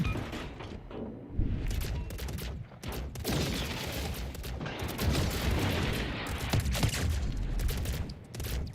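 Main guns of a Japanese torpedo destroyer firing in World of Warships: Legends, a sustained roar of booming salvos and mechanical clatter over a dense, steady battle din.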